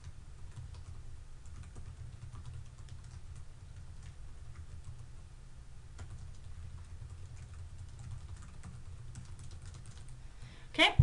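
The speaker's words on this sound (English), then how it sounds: "I'm going to go over to my other computer here, and I'm going to start typing something." Someone types on a computer keyboard, a faint, continuous run of soft key clicks in a quiet room with no talk over it.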